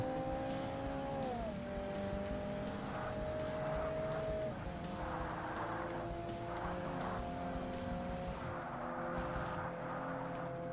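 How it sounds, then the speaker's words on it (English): A hatchback drifts around a tight corner on a racing track in Forza Motorsport, its engine droning steadily with pitch dips and rises as it slides through, loud and continuous with tire noise underneath. "It's such a tight corner, I just like drift around it."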